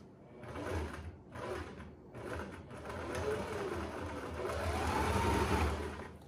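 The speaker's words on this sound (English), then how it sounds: "the sewing machine to go through this area." A sewing machine runs in bursts while double-stitching welt pockets on a coat or jacket, its rapid mechanical stitching starting and stopping, then a longer steady run, heard close and moderately quiet.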